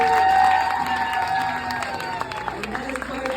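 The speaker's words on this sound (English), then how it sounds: "Can you give Greg another round of applause, everyone?" An audience applauds and cheers for a man named Greg, with high whoops and shouts over scattered clapping that gradually eases off.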